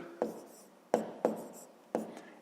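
Hand-written numbers on paper during a fifth-grade maths exercise: four short scratchy pen strokes, each a sharp onset that fades, spaced irregularly and close up, with no voices.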